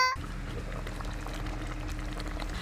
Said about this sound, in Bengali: বেশ গুট গুট করে ভালোই ফুটে গেছে